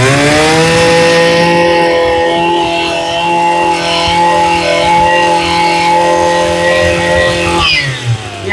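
Mitsubishi grass cutter's small engine runs loud and close at a steady high-pitched whine, holding constant revs before dropping off at the end, with no talking over it.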